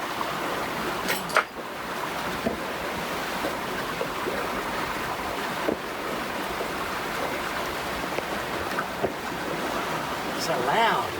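White water waves rush and churn near a sailboat at sea, a continuous loud wash of surf with occasional thumps and splashes.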